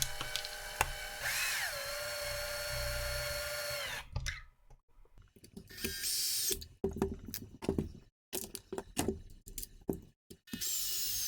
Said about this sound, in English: electric screwdriver.